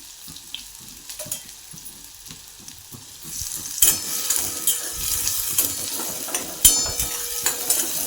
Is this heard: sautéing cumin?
yes